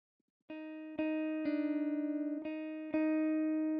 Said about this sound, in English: This is what the guitar sounds like without effects.